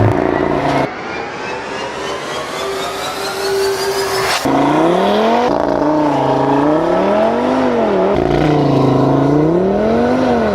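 A 2018 Audi TT RS launches hard under launch control, its engine note climbing steadily through the gears with loud, close revving, brief shift breaks, then surging and dipping under continued hard acceleration.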